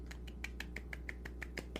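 A small group gives a soft golf clap: about eleven light, quick, evenly spaced claps over a second and a half, quiet and close, with no voices.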